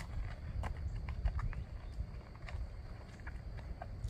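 A spotted saddle horse's hooves clatter and crunch over big loose riprap in an irregular walking rhythm, fairly close, with scraping stone sounds between steps.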